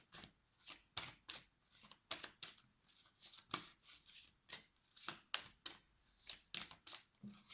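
Tarot cards shuffled and drawn from a deck, a steady run of crisp, close riffling and flicking bursts in quick succession, fairly quiet with no voices.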